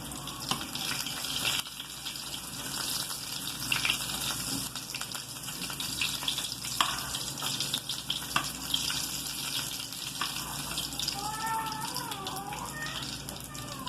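Potato taquitos fry steadily in hot oil, a continuous bubbling hiss that stays even and fairly close with small pops throughout, while a faint voice comes in near the end.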